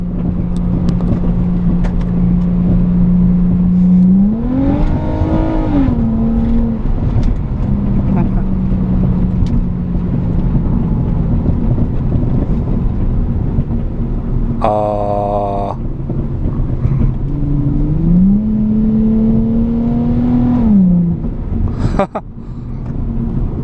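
A Nissan G35 sedan with a Manzo aftermarket exhaust drones steadily, then revs up twice with rising, growling exhaust tones, a brief burst of another passing vehicle between, wind rumbling throughout.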